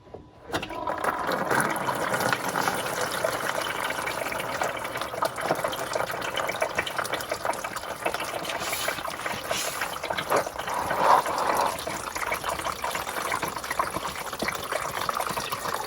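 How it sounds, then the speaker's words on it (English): Coolant pouring steadily from a pulled radiator hose on a 1962 Morris Mini Minor, a continuous splashing gush of liquid onto surfaces that runs evenly for the whole stretch, close to the listener. "when you pull this radiator hose off and all the coolant spills out all over the place"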